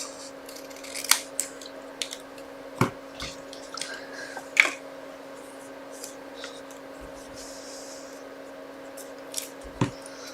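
Cardstock cut for a handmade card, with a few sharp scissor-like snips and clicks scattered over a quiet background hum, close and isolated.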